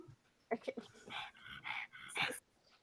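A dog close by, giving a series of short whimpers and strained breathy yips in quick uneven bursts, fairly quiet overall.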